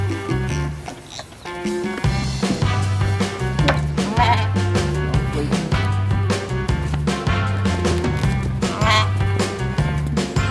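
Sheep on a forest pasture being converted to silvopasture bleat repeatedly, several overlapping calls, fairly close and loud, with a steady sustained tone running beneath them.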